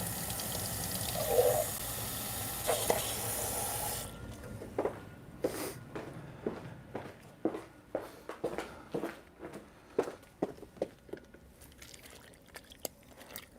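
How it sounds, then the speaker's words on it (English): Hot water runs from a tap into a bucket at a car detailing shop, a steady gushing rush that cuts off after about four seconds, followed by a string of sharp knocks and clatters. "Get a nice bucket of hot water"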